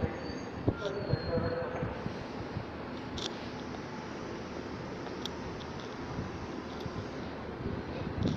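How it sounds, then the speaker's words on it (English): A Class 66 freight locomotive and its wagons pass at Doncaster, a steady broadband rumble of wheels and engine holding for several seconds, with faint squeals and a few clanks over the roar. "Passing now is a freight train at 66."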